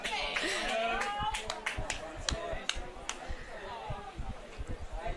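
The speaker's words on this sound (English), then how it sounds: "Riley Irvin getting a clap from the fans here as he comes off for a well-deserved break on the bench." Football fans at a Northern Territory Premier League match clap for a player leaving the field, scattered sharp claps over crowd murmur and a commentator's voice, moderately close and irregular.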